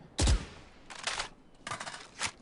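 A Phantom rifle with the Primordium skin fires in Valorant: a sharp opening shot followed by two short bursts and a final crack, crisp and close against near silence.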